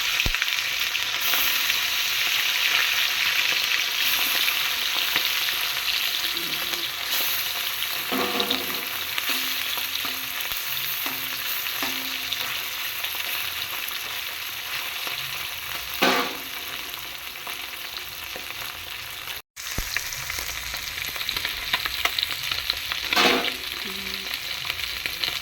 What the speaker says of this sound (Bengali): কড়াইয়ে তেল গরম হয়ে গেছে, দিয়ে দিচ্ছি মাছগুলো। মাছগুলো ভালো করে ভেজে নেব।